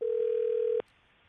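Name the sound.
telephone ringing on a phone call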